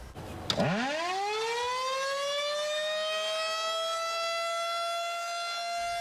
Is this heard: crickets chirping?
no